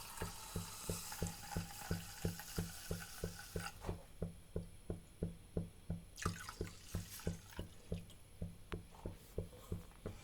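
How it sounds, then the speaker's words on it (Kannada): A pot of water and jaggery boiling on the stove, with a steady, evenly spaced clinking or tapping like stirring over a continuous bubbling hiss, close and moderately loud, with no one talking. "ಸೊ ಈಗ ನೋಡಿ ಕುದೀತಾ ಇದೆ."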